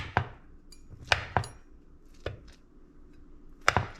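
A knife cuts through a baked breakfast casserole in a few sharp, separate strokes, each a crisp knock against the pan, with short quiet gaps in between.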